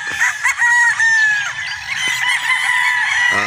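Gamefowl battle stags on a game farm in Batangas crow loudly and close by in drawn-out calls that overlap one another, with clucking and other birds in the background.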